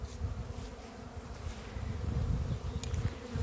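Honeybees swarm at an apiary while being fed, giving off a dense, steady low buzzing hum close by that grows slightly louder partway through.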